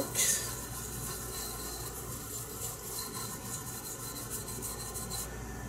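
Flux residue being scrubbed off an air conditioner's electronic circuit board, a steady close dry rubbing and rasping that runs continuously at moderate level, with a brief sharper scrape at the start and no talking.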